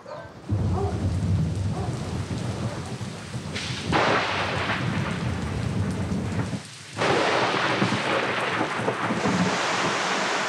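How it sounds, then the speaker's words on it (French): A tropical thunderstorm on the island of Mayotte pours down torrential rain in a dense, continuous roar, with rolling thunder swelling through it and a brief lull before the downpour surges back. "L'orage surprend tout le monde. Des pluies torrentielles qui vont durer jusqu'au petit matin."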